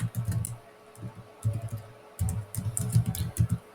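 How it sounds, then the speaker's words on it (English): Typing on a computer keyboard, with close, quick clusters of key clicks in short bursts separated by pauses, quiet and alone without talk. "I'll just type it out"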